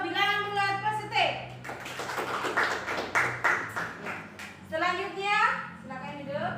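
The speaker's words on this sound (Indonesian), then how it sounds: "Tepuk tangan untuk kelompok bilangan bulat positif." In an Indonesian school classroom, students clap for a group of classmates in a few seconds of brisk, scattered applause. Children's voices come before and after the clapping.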